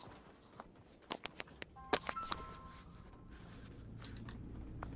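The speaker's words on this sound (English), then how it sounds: "Whose phone is that?" A phone sounds nearby with a short sequence of electronic beeps and tones, mixed with clicks and tapping over a low background hum.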